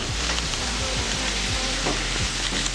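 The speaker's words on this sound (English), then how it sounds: "And we just wait and saute them down for a few minutes." Small chopped carrots sauté in a pan, a thick steady sizzle with a run of rhythmic scraping stirs, close and loud with no voices.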